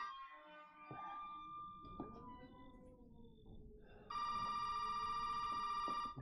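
An old-style telephone bell in the horror game Resident Evil 7 starts ringing partway through, loud and steady, after quieter tonal ambient sounds and a few faint knocks.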